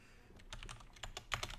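Quick bursts of keystrokes on a computer keyboard as a username and password are entered, an uneven run of close, soft clicks with one sharper tap near the end, no voices.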